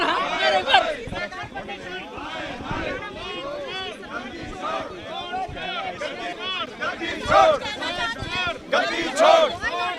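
A protest crowd at a demonstration in Chandigarh chants slogans in rhythmic unison, with loud repeated phrases over steady shouting and babble, close and dense throughout.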